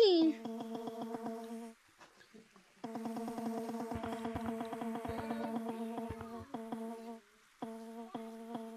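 A synthetic, tonal buzzing hum of a bee in Gorilla Tag drones steadily with brief gaps, a steady electronic insect-like drone.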